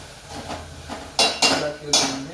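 Food is stirred in a cooking pot with a metal utensil, giving three loud scraping clinks around the middle of the stretch after a quieter clatter, close by with no talk.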